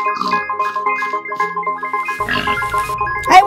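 A Minecraft pig grunts and oinks repeatedly in short, close tonal bursts over a melodic game backdrop, ending with a louder squeal.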